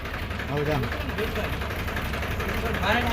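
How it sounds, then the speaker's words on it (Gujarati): A tractor engine rumbles steadily at night in a wooded area, heard at a moderate distance under voices talking. "જંગલમાં ટ્રેક્ટર અવાજ"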